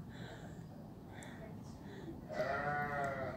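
A few short, high bleats from lambs at Schönbrunn, a faint one early and a louder wavering bleat near the end, over background murmuring.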